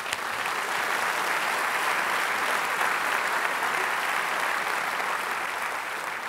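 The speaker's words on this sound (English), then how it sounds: "And I think that deserves a round of applause." A large audience at a port presentation applauds steadily, a dense, loud wash of clapping that holds evenly throughout with no speech over it.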